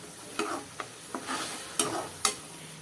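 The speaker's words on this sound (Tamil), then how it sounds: "இது எல்லாம் சேர்த்து நல்லா வதக்கி விட்டுறலாம்." Onions, tomato, mint and ginger garlic paste being stirred and sautéed in a pan for a curry gravy, with a few distinct spoon scrapes and a soft sizzle underneath, close and fairly quiet.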